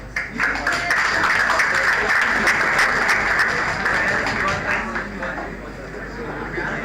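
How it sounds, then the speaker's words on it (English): An audience applauds the winner of a quiz at a Postman API fundamentals event, giving a loud, sustained round of clapping that starts abruptly and tapers slightly toward the end. "give a huge round of applause for Bhanu Nagpure."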